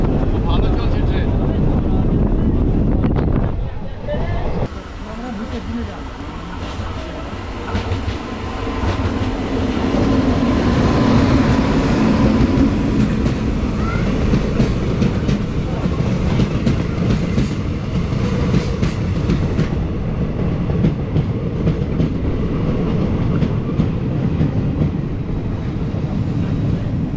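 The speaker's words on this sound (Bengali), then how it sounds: "ট্রেন কিন্তু দুরন্ত গতিতে চলছে, খুব ভালো চলছে ট্রেন।" A local train running fast on the rails, with a loud, continuous rumbling roar and rattling clatter heard from inside the moving carriage, plus wind buffeting and faint voices.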